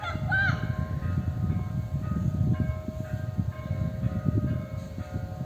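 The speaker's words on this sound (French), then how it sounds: "On entend les cloches de l'église qui est juste en face sonner." Church bells ringing at noon from a church just across the street, heard faintly and distantly with a steady tolling behind outdoor background noise.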